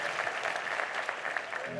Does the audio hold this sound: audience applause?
yes